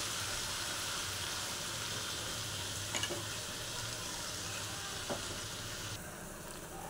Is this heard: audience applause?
no